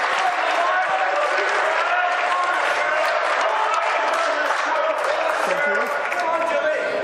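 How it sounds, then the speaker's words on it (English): A snooker crowd at the Northern Ireland Open semi-final, Barry Hawkins versus Anthony Hamilton, breaks into loud, sustained applause and cheering that fills the whole stretch, with talk faintly beneath. "what a big cheer that is for Anthony Hamilton"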